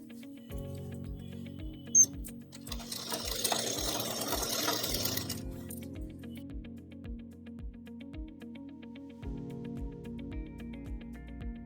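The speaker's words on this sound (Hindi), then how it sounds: "इसको उल्टा करके फिर इसको हम सिल रहे हैं" A sewing machine stitching an underside seam on a ladies' jacket, its steady mechanical clatter ticking at a regular pace, with a brief louder whirring burst in the middle and then an even rhythm again.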